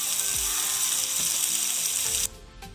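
Onions fry in a pan for a pickle, giving a loud, steady broadband sizzle that runs unbroken for about two seconds before dropping off abruptly, leaving quieter sputtering and a few soft clinks.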